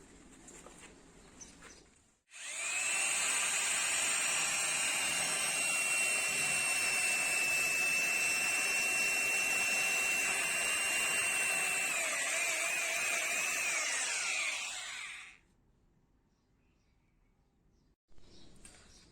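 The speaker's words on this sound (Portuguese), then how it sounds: "vou usar ela na versão furadeira para poder furar uma parede" A 900W rotary hammer in drill mode whines loudly and continuously for about thirteen seconds while drilling into a wall, then stops, leaving near silence.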